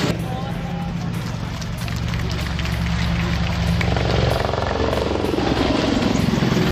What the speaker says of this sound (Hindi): अपाची हेलीकॉप्टर AH-64E एक ऐसा हेलीकॉप्टर है जो मशीन गन,